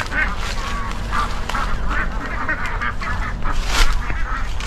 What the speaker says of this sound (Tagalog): dito sa alaga ng peking duck